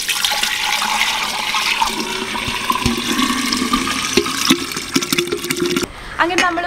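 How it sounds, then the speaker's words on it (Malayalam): Cooled boiled ginger water for homemade ginger beer poured into a jar, a continuous rushing, splashing stream that runs for several seconds before tapering off, with a few clinks near the end. "വെള്ളം തണുത്തതിന് ശേഷം മാത്രമേ നമ്മളിത് ഭരണിയിലോട്ട് മാറ്റാവുള്ളൂ"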